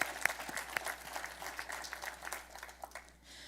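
Quiet round of applause at a business sustainability summit in Los Angeles, scattered claps fading toward the end.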